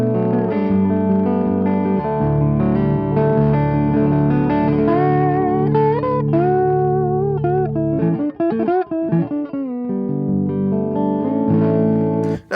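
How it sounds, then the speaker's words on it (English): Dark-toned electric guitar played through an amp with no tone control, sustained overdriven chords breaking up slightly, loud and continuous with a brief choppy passage near the end, no talking. "And this is a way darker guitar."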